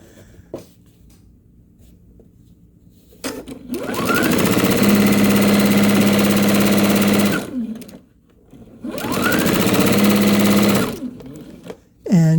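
A sewing machine stitching charm square quilt pieces runs in two long, loud, steady whirring bursts, close by, separated by a short quiet gap with light handling noises.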